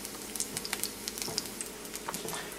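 Garlic cooks in a warmed pan with a soft, steady sizzle scattered with fine crackles and pops, close by and fairly quiet.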